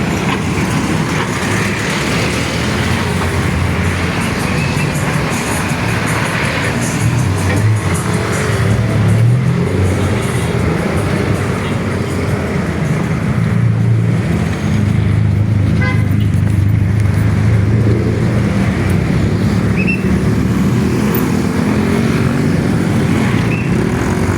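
Steady, loud traffic roars along Quirino Highway in the Philippines, a dense unbroken rumble of passing cars and motorcycles heard from the roadside, with a faint horn or two and no clear talk.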